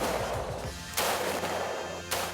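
A soldier's rifle fires during a military shooting demonstration, with sharp, loud reports spaced about a second apart over steady background noise.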